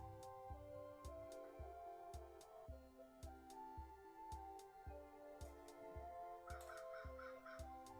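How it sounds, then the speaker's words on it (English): Crows caw faintly from outside, a few short harsh calls buried under steady rhythmic music that dominates throughout. "the crows are outside, I can hear them."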